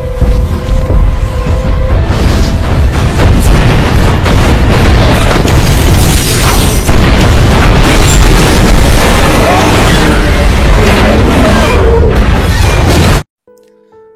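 A huge, sustained roaring gas-line explosion in the film Live Free or Die Hard, with crashing debris, fills the clip at full loudness, then cuts abruptly to near silence.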